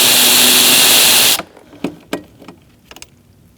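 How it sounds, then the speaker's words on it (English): A power driver whirs loudly and steadily for over a second while backing out the last screw from an interior panel of a 2016-2019 Chevrolet Cruze, then stops, followed by a few scattered clicks and taps. "we're going to take out this last screw here"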